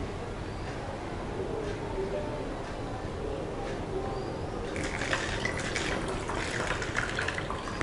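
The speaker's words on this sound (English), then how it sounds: "I'm using a funnel and I'm pouring our green colored water into the bottle." Green colored water pours through a funnel into a bottle, a continuous splashing, gurgling trickle that grows brighter and busier toward the end as the bottle fills.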